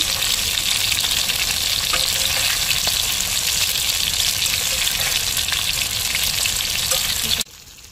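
Croaker fish fry in hot oil in a Mangalore-style masala fry, a loud dense crackling sizzle held steady close by, cutting out abruptly near the end.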